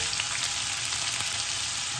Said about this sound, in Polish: I od razu dodajemy naszą salsicję. posmażamy 2-3 minutki.